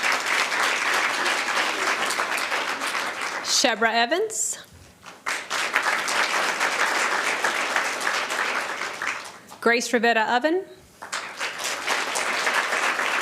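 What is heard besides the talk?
applause at a board of education meeting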